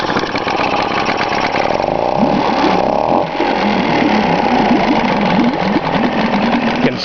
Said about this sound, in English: Pretty responsive, a little 2-stroke.